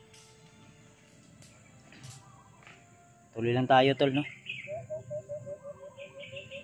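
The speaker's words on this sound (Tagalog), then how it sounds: "may narinig kayo mga ibon kasi tahimik talaga tol lahat" A short burst of chirping birdsong rings out, followed by a series of repeated bird calls, while someone talks quietly over faint background ambience.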